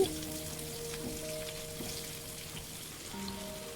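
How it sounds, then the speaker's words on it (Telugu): Brinjals slipped gently into hot oil for a stuffed gutti vankaya curry, a crackling, spitting sizzle that stays steady and close, with faint kitchen hum beneath. "వంకాయలను అలాగే నూనెలోకి వదలాలి చాలా మెల్లగా"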